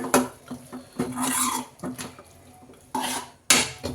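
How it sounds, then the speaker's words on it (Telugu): Pea chaat is stirred in a metal pot on a switched-off stove, with a spoon scraping and clanking against the pot in irregular bursts, close and fairly loud. "స్టవ్ ఆఫ్ చేసుకొని మిక్స్ చేసుకుందాం"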